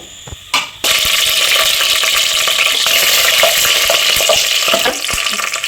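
Bay leaf, star anise, cardamom and a piece of cinnamon drop into hot oil for chicken biryani, with a brief clatter and then a loud, continuous close sizzle and crackle throughout.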